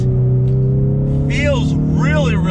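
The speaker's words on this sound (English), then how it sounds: "you're definitely getting more sound through that exhaust" A 2020 Ford Mustang EcoBoost with the High Performance Pack drones steadily from its four-cylinder engine and exhaust at a constant low pitch while someone talks over it.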